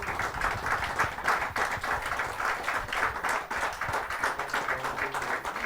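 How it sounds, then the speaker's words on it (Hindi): Audience at a Hindi kavi sammelan poetry gathering applauds steadily to welcome a poet, a dense, even wash of clapping from a sizeable crowd lasting throughout. "जोरदार ताली के साथ हम उनका स्वागत।"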